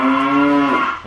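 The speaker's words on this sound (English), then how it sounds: "Stupid farting German cows." German cows moo in a single long, loud bellow inside a shed, steady for most of a second before trailing off.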